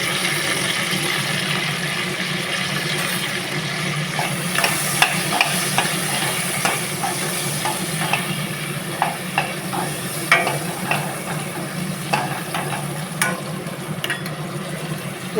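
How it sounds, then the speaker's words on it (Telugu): A spoon stirs eggplant curry with turmeric as it fries in a pan, a continuous sizzle broken by regular scraping clicks and taps of the utensil against the pan. "వంకాయలు మగ్గేంత వరకు కలుపుతూ మూత పెట్టి వేసుకోవాలి."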